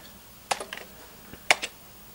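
Keys clack on a computer keyboard while typing in WordStar 4.0, two short close bursts of a few quick keystrokes each, about a second apart, in a quiet room.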